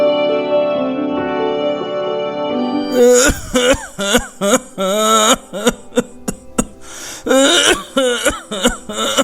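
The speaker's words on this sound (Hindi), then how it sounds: "अचानक खांसते खांसते गले में बहुत तेज दर्द हो रहा है" A person coughs and clears their throat repeatedly in harsh, uneven bursts, loud and close, after a few seconds of sustained music.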